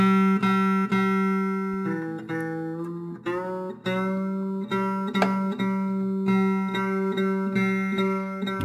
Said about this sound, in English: So we have to make this string